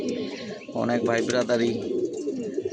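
Domestic pigeons kept at home during hot weather coo in close, rolling phrases, loud against a voice speaking alongside them.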